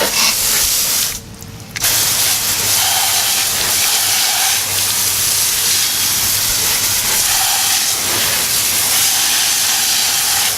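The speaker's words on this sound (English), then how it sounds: "I'm going to try to keep some of this water from spraying on the camera" A loud, continuous hiss of water spraying on car wheels at close range, briefly cutting out once near the start, then hissing steadily on.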